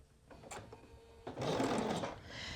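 A sewing machine runs a small zigzag stitch on curling jersey knit for a hoodie, starting with a few soft bursts, then a louder steady whir through the second half, close and alone.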